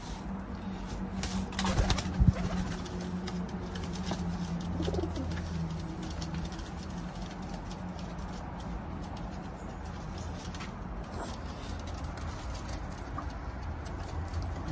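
Teddy pigeons in a London loft coo steadily, their low, throaty calls layered together, with a brief flutter of wings near the start.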